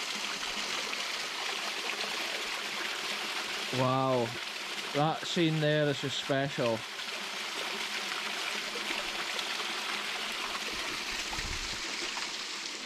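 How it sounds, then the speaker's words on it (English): Steady rushing water roars throughout, broad and continuous like a waterfall, with someone speaking briefly over it in the middle. "This is one of the most stunning waterfalls that I've seen in a long time"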